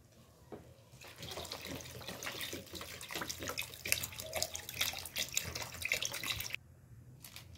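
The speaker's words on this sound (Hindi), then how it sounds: "अब ऐड करना है इसमें पानी" Water pours steadily into a cooking pot of soaked rice and soya chunks for several seconds, a continuous splashing rush that stops abruptly near the end, with no talking.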